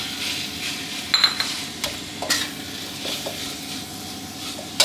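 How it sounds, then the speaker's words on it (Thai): Minced pork stir-fried in a pan with pounded garlic, pepper and coriander root: steady sizzling under scraping, clinking stirs of a utensil against the pan, close and without speech. "ผัดคลุกเคล้ากับสามเกลือให้เข้ากันดีเลยครับ"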